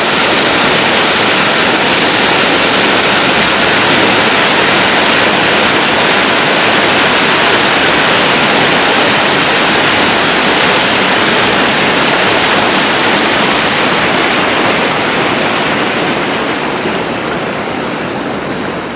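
Creek water flowing past a cleared log jam, a loud continuous broadband rushing that stays steady, easing slightly toward the end.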